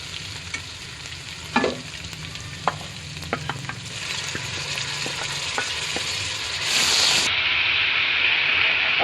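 Tomatoes added to ginger-garlic paste masala fry in a pan, a steady sizzling hiss with scraping stirs and a few sharp clicks of a spoon, the sizzle swelling louder near the end; no talking.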